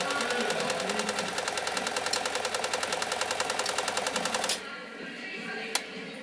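A Riccar 2925 home sewing machine stitching at a steady fast rhythm, close and clear, its needle clatter running for several seconds before stopping abruptly with a single click after.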